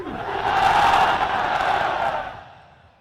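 A large political rally crowd in Karachi roars a slogan chant in unison, a massive distant-sounding swell that holds steady for about two seconds and then fades away.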